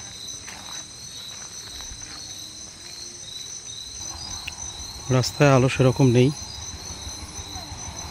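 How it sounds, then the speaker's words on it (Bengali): Crickets chirping on every side on a dark rainy-season night at Murti in the Dooars, North Bengal, a dense continuous high trill close and steady, with someone speaking briefly and a short nearby squeaking call rising above it. "ঝিঝির ডাক চারপাশ থেকে শোনা যাচ্ছে।"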